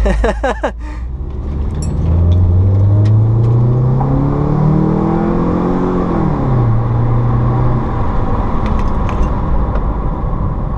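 A car engine revs up, its pitch climbing steadily and then dropping back to a steady run, loud and close, with a rattle at the start.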